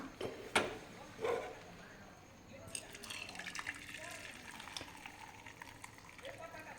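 Water is poured off cooked lentils into another pot, with a couple of louder splashes early on, then a steady trickling stream continuing to the end.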